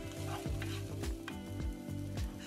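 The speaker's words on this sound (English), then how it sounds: "I'm now going to add my mince into my pan." Minced meat hits a hot frying pan that already holds softened garlic for a bolognese, giving a loud, steady sizzle with repeated scraping stirs that come at a regular pace.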